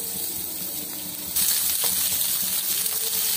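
Onions hit hot oil in a frying pan for a tadka on a village cooking fire, bursting into a loud, steady crackling sizzle that grows sharper partway through.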